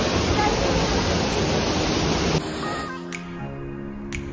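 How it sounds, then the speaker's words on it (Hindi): A hidden waterfall in the hills near Shimla and Solan gives a loud, steady rushing roar close by for about two seconds, then drops away as broadband water noise gives way to quieter background with faint tonal sounds. "सो फाइनली हम वाटरफॉल की तरफ पहुंच ही गए"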